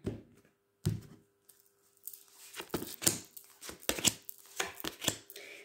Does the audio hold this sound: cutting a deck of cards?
yes